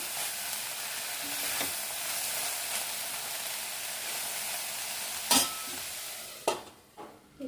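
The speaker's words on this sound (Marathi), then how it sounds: "झाकण काढून एकदा आपण भाजी छान मिक्स करून घेऊया" Cabbage and chana dal sabzi in a pan, a continuous close sizzle with soft stirring, ending in a few sharp scrapes and knocks of the spoon against the pan.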